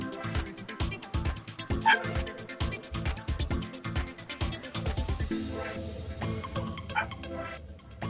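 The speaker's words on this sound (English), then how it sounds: "I have a crazy barking dog in the background." A dog barks repeatedly in quick, rhythmic bursts, fairly close, with occasional yips over a steady background.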